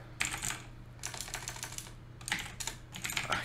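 Bursts of rapid clacking keystrokes on a computer keyboard, close and fairly quiet, coming in four short runs separated by brief pauses over a steady low hum.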